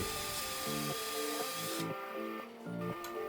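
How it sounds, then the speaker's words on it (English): A small power drill whines steadily, drilling a small hole in a wooden bead, its pitch stepping up and down in short bursts as it bites in and eases off, close and continuous. "I drill a small hole in the bead"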